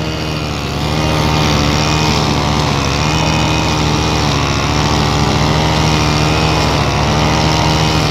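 A lawn mower cuts grass along a big ditch, its engine droning steadily and loudly up close with a slight waver in pitch, and no voices.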